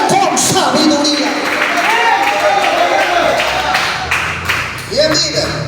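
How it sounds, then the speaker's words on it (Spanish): A church congregation claps and cheers during a Spanish-language sermon, a dense, steady wash of applause and voices that fills the whole stretch, loud and close. "Levante sus manos y aplauda la gloria"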